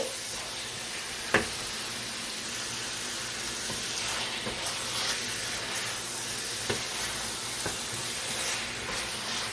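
Chicken and onions sautéing together in a pan for a chicken pepper fry make a soft, steady sizzle with occasional light clicks of stirring.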